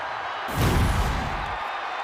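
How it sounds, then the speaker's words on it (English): A WWE arena crowd swells into a roaring cheer for Shaquille O'Neal, a broad wash of noise rising suddenly and holding steady. "The entire WWE Universe is cheering on Shaq"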